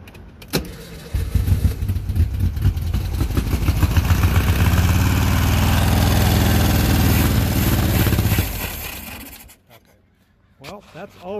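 A Volkswagen Beetle engine, short on fuel, coughs into life and runs roughly for several seconds with a loud, uneven air-cooled rumble, then dies away to quiet, with a voice speaking briefly near the end.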